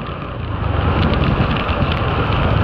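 Steady rain hisses down on surfaces along an old airport road, a dense even wash of drops that swells slightly louder after the first moment.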